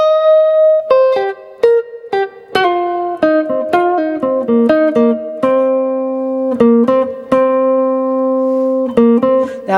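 A rock guitar lick over a rock vamp in C, with a string bend and a pull-off among quick single notes, some ringing out longer, played loud and close without talk.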